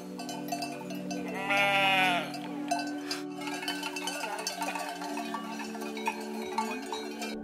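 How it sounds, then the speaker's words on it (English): A flock of a local Slovak breed of sheep grazing a forest meadow, each wearing a bell, fills the air with steady, overlapping clanking bells and a clear nearby bleat partway through. "and they were all wearing bells."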